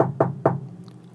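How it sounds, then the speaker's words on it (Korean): Knuckles knocking on a room door at night in a home, two firm raps close by, followed by a short quiet tail. "갑자기 방문을 두드리는"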